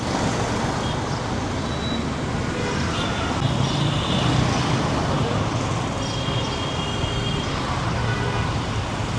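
Street traffic roars on a Gulshan road beside Police Plaza while someone crosses, a dense continuous wash of passing cars and buses with engine rumble and faint horns, fairly close and steady throughout.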